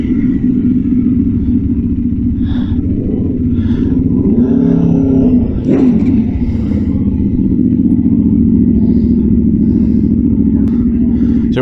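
KTM 390 Duke 2022 motorcycle on a test ride, its single-cylinder engine droning steadily up close for the whole stretch, with a brief swell and clatter midway and faint wind noise over the top.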